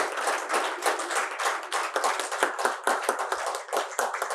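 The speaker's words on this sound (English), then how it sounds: "Let's give sir a huge round of applause." Dense, lively applause from a conference audience honoring a visiting High Commissioner, with many hands clapping together in a continuous, fairly close wash of sound.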